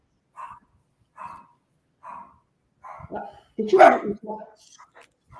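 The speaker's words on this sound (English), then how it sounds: "We don't mind barking dogs." Several short barks from a dog repeat at a steady rhythm, fairly faint and somewhat distant, followed by a louder burst of barking as a person speaks over it.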